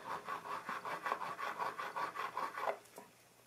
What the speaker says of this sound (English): the next I'm going to do is just take this and rub it against the table here. So this is wood.